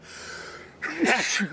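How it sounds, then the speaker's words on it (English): During a rock band interview, a person sneezes once nearby. A breathy intake builds into a sharp burst. "I'm about to sneeze, sorry."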